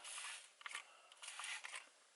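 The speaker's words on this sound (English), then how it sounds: "I'm going to spray this onto the towel like they say." Several quick hissing sprays from a spray bottle of car detailing product onto a towel, in short bursts, close and soft, with brief pauses between them.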